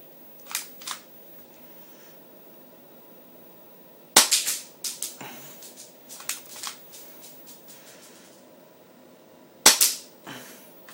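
A Yin Xing G.020 airsoft pistol fires at a target, giving sharp isolated snaps: two early shots, a cluster of clicks around the middle, and a final crisp shot near the end, with quiet gaps between.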